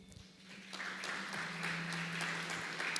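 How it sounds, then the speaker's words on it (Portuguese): A church congregation applauds during a worship service, a steady wash of clapping that holds at moderate level for a few seconds over a low sustained hum. "Você pode aplaudir ao Senhor."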